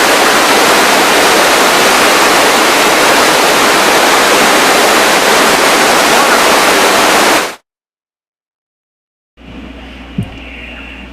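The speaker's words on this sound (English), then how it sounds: "This is the Montreal River." Powerful rushing water of the Montreal River near the Ragged Chutes plant fills the air as a loud, steady roar, then drops to silence before quieter ambient hum with a faint knock returns.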